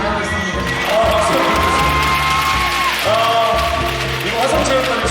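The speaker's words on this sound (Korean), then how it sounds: "박수" Volleyball fans in an arena cheer and applaud after a women's home-match win, a loud sustained crowd roar with whoops and clapping. A voice rings over the noise throughout.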